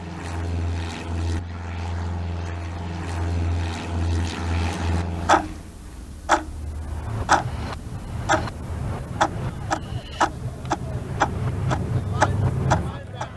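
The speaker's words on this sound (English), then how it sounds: "a formation of RAF aircraft flew over the harbour at 2:20 p.m." A formation of RAF aircraft passes over a harbour, heard as a steady low propeller drone that fades out, followed by a run of sharp ticking knocks spaced about a second apart.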